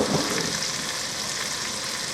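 Swedish meatballs frying in a pot, a steady close sizzle and crackle holding evenly throughout with no talk.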